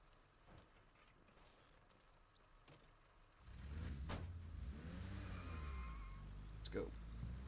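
A car in the video game Arma Reforger starts up and drives off after a quiet stretch, its engine a steady low rumble that rises and holds, with a voice talking faintly over it.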